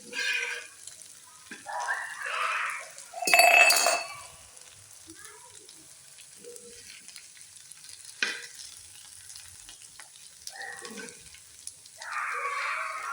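Soybean fry being turned over in a pan on a low flame, with intermittent bursts of sizzling and scraping separated by quiet gaps, one louder burst near the middle.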